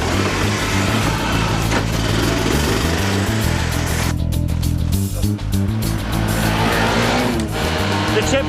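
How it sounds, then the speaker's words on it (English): A car driven around the block, its engine and road noise a loud, steady rumble that runs unbroken from start to finish, with a faint voice underneath. "just have a quick drive around the block and see what happens"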